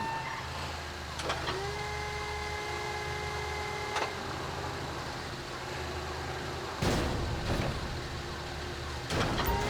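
Heavy container handler in GTA V clamping onto a shipping container at a port: a steady low engine drone with a rising hydraulic whine, sharp metallic clunks at intervals, with a voice speaking over it.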